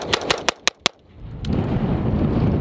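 BATTLEARMS Authority Elite rifle fired in a timed drill: five sharp, loud shots in quick succession with short even gaps, followed by a broadband rumble that carries on through the rest of the clip.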